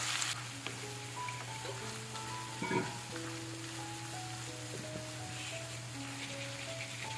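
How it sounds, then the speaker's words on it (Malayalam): Chopped shallots, dried red chilli and curry leaves fry steadily in coconut oil, a continuous crackling sizzle with a low hum underneath and small pops, no talk. "ചെറുതായിട്ട് കട്ട് ചെയ്ത ചെറിയ ഉള്ളിയാണ് കേട്ടോ ചേർത്തിട്ടുള്ളത് കുറച്ച് വറ്റൽ മുളക് അല്പം കറിവേപ്പില ഇതെല്ലാം കൂടി നമ്മുടെ ഈ ഒരു വെളിച്ചെണ്ണയിൽ നല്ലോണം ഒന്ന് മൂപ്പിച്ചെടുക്കുക"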